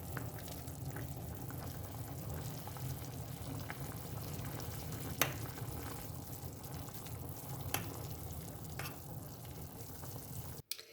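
Water boils in a pasta pot, bubbling and churning steadily, a close, continuous simmering texture with a few sharp clicks and taps.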